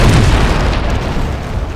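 A single loud, deep cannon boom rolls out and slowly fades, a heavy explosion in the video game Anno 1404 Venice, with no talk over it.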